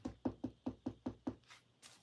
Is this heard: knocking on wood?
yes